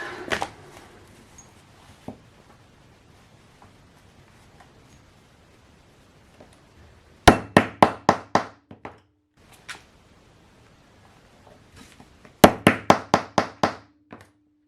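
A hole punched through a plastic journal cover made from milk bottles, heard as two bursts of sharp clicking knocks, each a rapid run of five or six close taps, separated by quiet handling.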